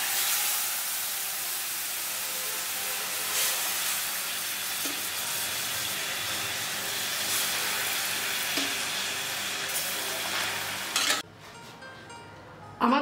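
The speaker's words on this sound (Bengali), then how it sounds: "আমার ক্যারামেল রেডি হয়ে গেছে। এর মধ্যে অল্প অল্প করে দুধ মেশাবো" Milk poured into hot caramel sizzles with a loud, steady hiss and spattering while it is stirred, then stops abruptly near the end.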